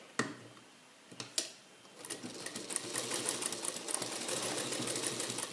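A sewing machine stitches a second row along a sleeve seam, starting with a few isolated needle clacks before settling into a fast, continuous rattling run, close and clear.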